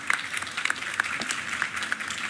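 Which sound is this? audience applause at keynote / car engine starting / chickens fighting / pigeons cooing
audience applause at keynote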